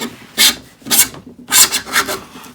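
A hand plane shaves end grain of olive wood with coarse, rasping strokes, three loud passes near the microphone separated by short pauses, each stroke scratchy and uneven through the wild grain.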